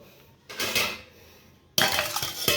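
A bowl of flour dough is covered for resting, with two close clattering clinks of dishware as the cover is set down and adjusted.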